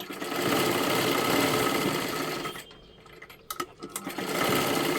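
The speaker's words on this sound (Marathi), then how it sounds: "तुम्हाला जेवढा शिलाई हवी असेल तेवढं तुम्ही इथे मारू शकता" A sewing machine stitches fabric in a steady, fast mechanical whir that runs nearly throughout. It stops briefly near the middle with a few clicks, then starts again. No voices are heard.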